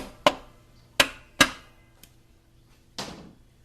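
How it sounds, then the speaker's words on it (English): Four sharp metallic taps from the back of a hammer seating a part into a 4L60E transmission during a rebuild, irregularly spaced with short ringing decays, followed by a fainter knock between them. "tap it smartly with the back of my hammer."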